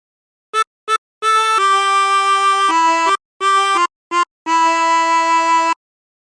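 A chromatic harmonica plays a slow, simple hymn melody, How Great Thou Art, in sustained reedy notes with short breaks between phrases, clear and close with no voices.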